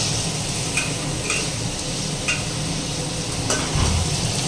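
Onion sizzles in a pan while browning for a home-cooked chicken dish: a constant broad hiss with a few sharp clicks of a spoon against the pan.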